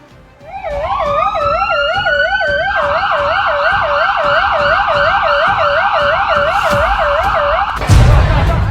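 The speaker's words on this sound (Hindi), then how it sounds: "एम्बुलेंस की आवाज कानों में गूंज रही थी" A loud, steady wailing ambulance siren close by at New Delhi Railway Station after a stampede, warbling continuously, ending in a burst of rumbling noise.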